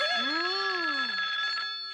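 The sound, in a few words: telephone ringing in a cartoon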